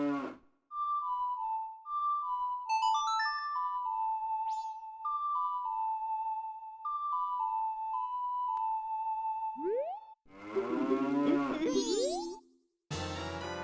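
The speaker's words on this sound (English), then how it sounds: "Why did the cow make the noise?" A cow moos in Zelda: Majora's Mask, set within a run of bright, bouncy game chimes and melodic tones, then a loud, wavering lowing call near the end.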